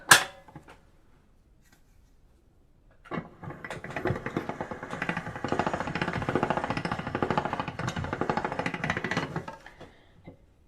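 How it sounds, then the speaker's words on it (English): A hand-cranked pasta machine rolls dough on setting 2, starting with a sharp clack, then a quiet pause, then several seconds of continuous close grinding and rattling that fades near the end, with no voice. "Now with this particular pasta machine, if you're running it through and the dough reaches the sides"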